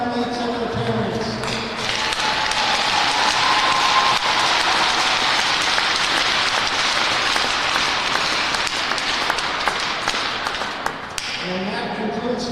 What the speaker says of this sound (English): How about one last round of applause for this outstanding group of senior athletes and their parents.